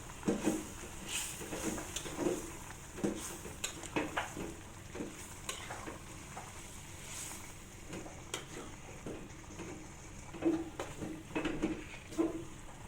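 Meat being stirred with sautéed spices in a cooking pot: a close, steady sizzle of frying with repeated scraping and stirring strokes, softer clinks of the pan now and then.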